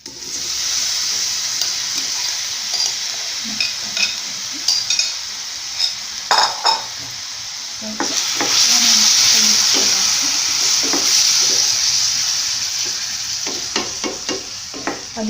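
Apple pieces sizzle and fry in melted butter in a pan, a steady hiss broken by scraping stirs and utensil clinks that grows louder midway as the fruit is stirred.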